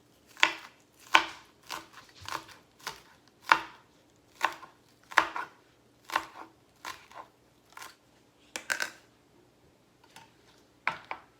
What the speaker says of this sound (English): So I'm just going to chop these up.